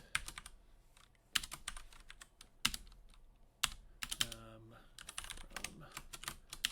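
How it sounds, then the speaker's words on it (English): Computer keyboard typing a Postgres database query: bursts of key clicks with short pauses between them, close and clear, with a brief stretch of other sound in the middle. "I'll just start typing"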